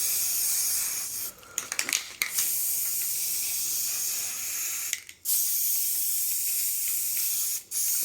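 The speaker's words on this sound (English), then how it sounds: "Let's test the spray just a little bit and" Spray primer hisses from an aerosol can onto orc miniatures in long, loud continuous bursts, broken by a few short pauses and quick sputters.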